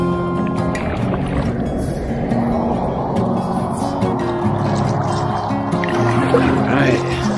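A kayak launches and floats on high water at the Willow Tree Inn, with continuous close splashing, trickling and hull knocks running steadily throughout, while a person talks nearby.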